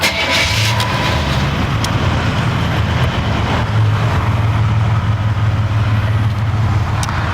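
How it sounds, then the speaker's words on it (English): A car engine idles steadily just after an oil change, a continuous low rumble heard close and loud, unchanging throughout, with no talking. "Drive it around the block."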